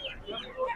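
Shamakhi chickens cluck at a poultry market, with short close clucks and murmurs against faint background chatter and market bustle.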